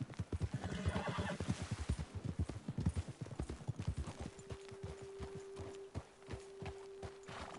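Horses in Red Dead Redemption 2, rapid rhythmic hoofbeats clip-clopping close by that slow to a halt, then a drawn-out neigh with a long steady whinny tone.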